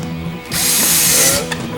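Power drill driving screws during a multibit build, a loud sustained whir of about a second rising after a short quieter stretch, with ratcheting mechanical texture and no talk.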